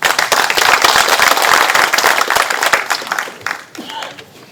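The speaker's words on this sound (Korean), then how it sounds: "발제자인 윤순갑 명예교수님을 큰 박수로 모시겠습니다" Audience at a Gyeongbuk forum applauds to welcome a professor emeritus presenting on the 2.28 democracy movement; dense, loud clapping that thins out and fades over the last second.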